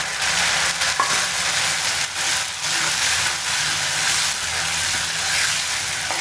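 Ground tomato for a village-style garlic and pepper kuzhambu sizzles and fries steadily in oil in a pan, a continuous close hiss broken by occasional stirring scrapes.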